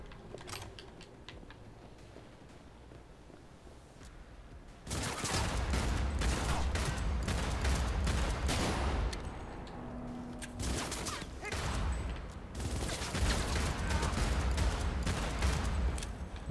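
Gunfire in Cyberpunk 2077, starting as scattered shots and then after a few seconds swelling into dense, loud sustained bursts and fusillades that continue nearly to the end.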